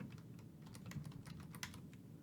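Fingers tap out a spreadsheet formula on a computer keyboard in a quick, irregular run of soft clicks, close and fairly quiet, with no speech.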